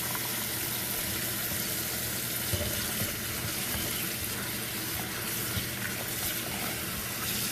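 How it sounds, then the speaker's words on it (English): Water pours and splashes into a pot of turkey drumsticks in a steady, continuous rush for several seconds, close by, with no speech. "So we're going to add some water and let this mixture mix up."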